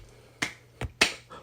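A grown man claps his hands four times in an uneven rhythm: three sharp, close claps and a softer fourth, with no talking.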